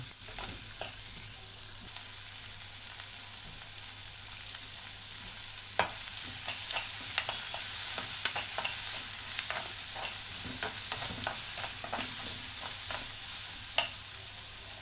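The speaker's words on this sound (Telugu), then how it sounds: "పచ్చిమిర్చి, కరివేపాకు, చిన్న అల్లం వెల్లుల్లి ముద్ద కూడా వేసుకుందాం." Green chilies, curry leaves and ginger-garlic paste fry in hot oil, giving a continuous close sizzle punctuated by repeated spatula scrapes and taps against the pan over roughly fifteen seconds, with no speech.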